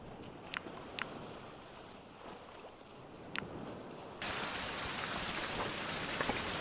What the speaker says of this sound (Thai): โอ้ยฝนตกเฉย อะไรวะคือข้าวของแล้วยังฝนตกเฉย โอ้ยฝนตก